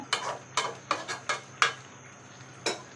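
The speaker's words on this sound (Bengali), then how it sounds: "আবার নেড়ে দিব।" Rohu fish head curry with chickpeas stirred in a pan, six distinct scraping spoon strokes against metal in an uneven rhythm, close and fairly quiet with no talking.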